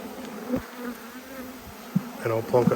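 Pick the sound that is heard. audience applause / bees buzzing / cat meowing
bees buzzing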